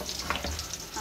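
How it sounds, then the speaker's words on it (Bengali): Meat being stir-fried (koshano) in a pan, a short close sizzle with soft scraping stir sounds. "মাংস মোটামুটি কষানো হয়ে গেছে"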